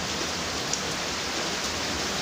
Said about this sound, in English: Rain coming down pretty good now.